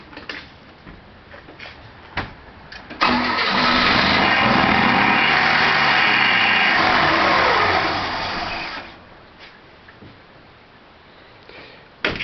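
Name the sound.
combustion engine starting and running on water fuel mixture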